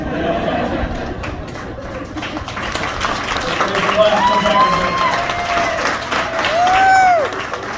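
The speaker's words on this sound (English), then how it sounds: "Give another round of applause." Wedding guests burst into applause after a best man's speech. Lively clapping mixes with cheers, scattered laughter, crowd chatter and a few whistles, swelling again toward the end.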